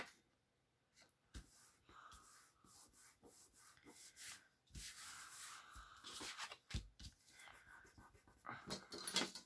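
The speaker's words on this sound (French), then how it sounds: "On gomme bien." An eraser rubs across a folded paper craft page to clean off pencil marks, giving soft, close scrubbing strokes in irregular bursts that grow busier and louder toward the end, with no talking.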